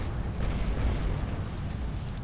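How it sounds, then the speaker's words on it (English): A big in-game explosion from Drakan: The Ancients' Gates rumbles as a dense, low roar that holds for a couple of seconds with no voice over it. "Ah, big explosion, epic."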